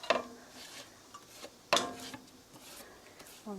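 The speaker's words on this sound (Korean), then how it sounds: "썰어 놓은 파를 먼저 넣어 주시고요" Chopped green onions go into a pan for mapo tofu, giving a few quiet scraping and clinking strikes of utensil against the pan, with soft rustling between them.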